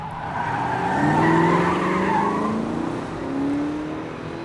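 Car tires screech in a long skid as a car runs off the road, a radio drama effect, loud and sustained with a rising engine tone, no voices over it.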